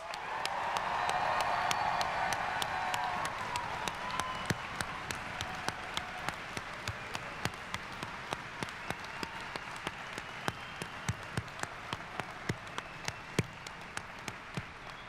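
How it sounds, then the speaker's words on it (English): High school graduation ceremony audience giving a round of applause, a dense spread of clapping that fades into scattered individual claps, with crowd noise underneath. "let's give them one last round of applause."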